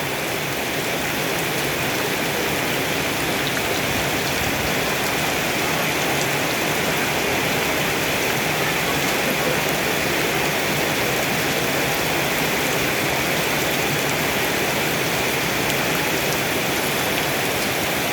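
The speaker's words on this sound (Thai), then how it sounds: "วันนี้ฝนก็ตกจังเลยค่ะ" Heavy rain pours steadily and loudly for the whole stretch, a dense unbroken hiss of drops striking surfaces near a field hut.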